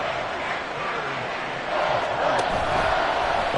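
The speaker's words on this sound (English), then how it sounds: "This crowd turning up the decibel level." A stadium crowd in Madden 24 during a Bears football game roars as a broad, steady wash of noise that swells louder partway through.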